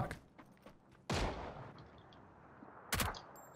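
Gunfire from a weapon in PUBG on a Rondo map bridge: a few scattered faint shots, then two sharp loud reports about two seconds apart, alone with no talk.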